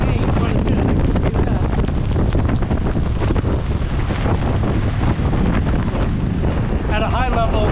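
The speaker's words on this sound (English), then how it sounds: "the wind is constantly changing." Heavy squall wind roars and buffets around a sailboat at anchor off Fort Pierce, loud and constant with microphone rumble, and a voice breaks in faintly near the end.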